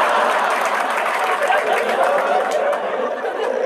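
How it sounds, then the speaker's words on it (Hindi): Applause breaks out amid a live stand-up comedy set, a dense crowd clapping steadily with scattered chatter and chuckles mixed in, loud and close throughout. "ताली"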